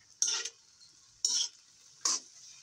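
Leftover food being reheated in a pan, heard as three separate short bursts of scraping and stirring, each about a quarter second long, evenly spaced with near silence between them.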